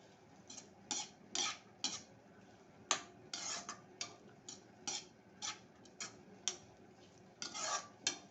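Cabbage rice stirred in a pot over high heat: a dozen or so distinct scraping, clinking strokes of a spoon against the pan, each one short and crisp, with a low background hiss and no talking.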